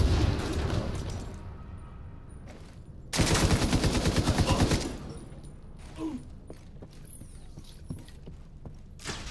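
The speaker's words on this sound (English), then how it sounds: "Firing on hostile" Gunfire in the shooter game The Division 2: a sustained automatic burst of rapid, evenly spaced shots, loud and close, followed by scattered single shots and impacts amid background game noise.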